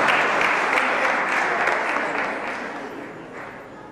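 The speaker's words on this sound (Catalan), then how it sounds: "un fort aplaudiment, sisplau" Audience applause at an awards ceremony, a dense, steady wash of clapping from a large crowd that slowly fades over four seconds, with no voices over it.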